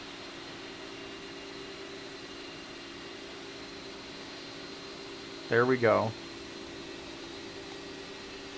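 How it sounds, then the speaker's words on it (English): A jet engine inside an airliner in Microsoft Flight Simulator 2024, a steady broadband whooshing roar with a faint tonal hum, unbroken, while someone briefly speaks over it midway. "We'll finally go into the jet engine."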